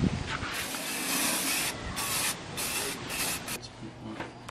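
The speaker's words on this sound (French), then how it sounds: "mon petit chum est en train de peinturer ça à la canette." A spray paint can fires in several long bursts of bright hissing mist, separated by short pauses. The sound is close and fairly loud, and no one talks.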